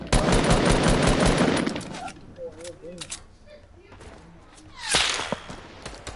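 Bursts of rapid automatic gunfire from an online shooter game rattle loudly for about two seconds, followed by sparse single shots and impacts, with another loud shot near the end while players talk over it.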